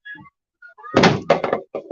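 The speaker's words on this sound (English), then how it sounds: "let me close that door." A door is shut indoors with a couple of loud, close thuds and a rattling knock, followed by a short burst of scuffling, after faint tones at the start.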